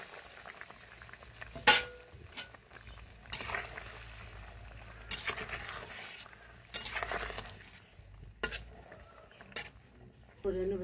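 Soy chunks and cumin garam masala paste sizzle in a pan, with a soft bubbling hiss broken by several loud clanks of a spoon stirring against the metal.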